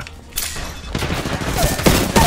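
Rapid bursts of light machine gun fire in a first-person video game, several loud, close volleys with sharp onsets and heavy thuds, clustered near the start and end of a short stretch.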